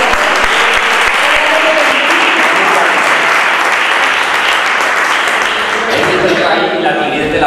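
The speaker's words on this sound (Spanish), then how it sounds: "Ya, aplaudí que os he visto." Dense, loud applause fills an auditorium at a tribute ceremony marking the 150th anniversary of Candelaria Coronel. The clapping holds steady throughout, and voices rise near the end.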